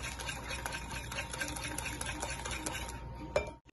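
Pistachio milk cake batter being mixed with an electric mixer, a steady whirring motor hum with light rhythmic rattling against the bowl, running continuously before cutting off abruptly.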